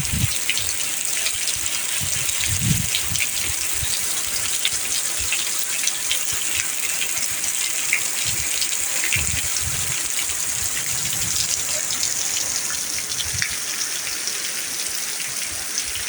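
Heavy rain pours down on a farm in the Brazilian backcountry, a loud continuous hiss of drops with water gushing and splashing nearby, steady throughout with occasional heavier thuds.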